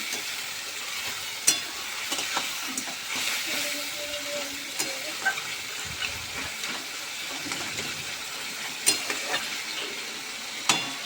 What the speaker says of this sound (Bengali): নুন হলুদ আর কাঁচা সরষার তেল দিয়ে এক ঘন্টার মতো মিশিয়ে আমি রেখে দিয়েছিলাম তো এটা একটুখানি ভেজে নিই